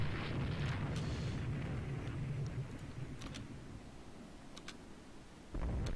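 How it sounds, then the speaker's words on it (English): A destroyer blows up in the naval strategy game Rule The Waves 2: a loud, deep rumbling blast that slowly fades, with a few faint crackles and a fresh surge of rumble near the end. "Okay, so that destroyer exploded."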